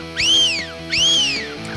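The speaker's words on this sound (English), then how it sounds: "I'm just going to get straight into it and start whistling" A Silva fox whistle sounds twice, each short, shrill, arching squeal rising and then falling, with a brief gap between the two calls, close and loud outdoors.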